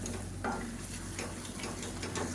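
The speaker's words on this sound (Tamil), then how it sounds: "மறுபடியும் நல்லா ஒரு கலர் கிளறிட்டு திருப்பி மூடி வச்சிடலாம்" Onion thokku being stirred in a pan, a steady low frying hiss with a few soft spatula scrapes, close and alone without talk.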